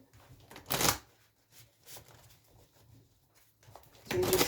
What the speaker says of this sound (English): Let me have a little shuffle here.